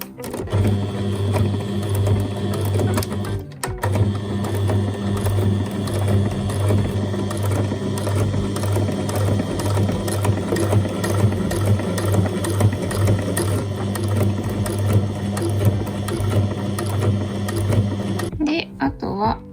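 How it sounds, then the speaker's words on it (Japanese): Sewing machine stitching a triple-folded one-centimetre hem on a cafe apron, with a continuous close whirring hum that runs steadily for nearly the whole stretch and stops briefly near the end. "裾の部分も1センチぐらいでね、三つ折りにしたので縫っていきます"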